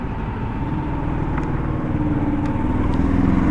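A 2025 KTM Adventure 390 motorcycle engine runs steadily throughout, a continuous loud low rumble close by with a slight rise in intensity toward the end and no speech.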